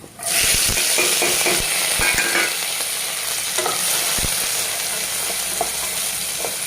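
Chopped onion frying and being stirred in hot oil in a home kitchen, a steady loud sizzle with repeated scraping strokes of a spoon against the pan, close up with no talk.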